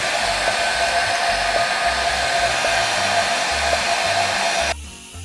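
A handheld hair dryer blows steadily and loudly at close range while styling hair back, a continuous broadband whoosh that cuts off abruptly near the end, leaving a quieter tail.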